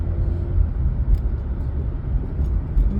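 A car driving through suburban Chicago streets, heard from inside as a steady low engine and road rumble with no talk.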